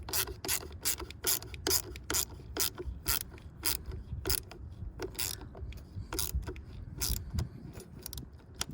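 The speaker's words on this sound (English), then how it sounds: "Actually, I'm gonna make this terminal tight also." Metallic ratcheting while battery terminals are tightened on a diesel pickup, a steady run of sharp clicks and clatter repeating at an even pace over low background rumble, close and fairly quiet.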